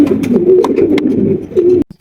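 Close, loud cooing from A-grade exhibition pigeons of Andalusian origin, a run of low throaty coos with soft wing or feather rustles, ending abruptly.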